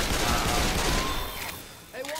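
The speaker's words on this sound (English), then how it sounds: "Heads up, he's shooting me, man." Heavy gunfire from Left 4 Dead 2 roars in a dense sustained burst, then tails off before a few sharper shots return, with voices talking over the chaos.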